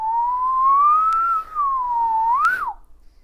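A single person whistles a clear, wavering tune, rising and falling with a short break midway and a final upward flourish, loud and close with no talk.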